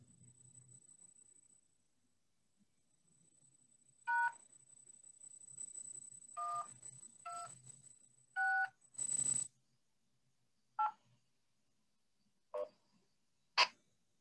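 A rapid series of DTMF keypad tones, about eight separate beeps at an uneven pace, is sent over a linked amateur radio repeater. A steady high carrier whine and faint low noise sit beneath the beeps.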